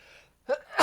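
A single sharp sneeze bursts out close to the microphone after a brief breathy intake, short and loud against near silence.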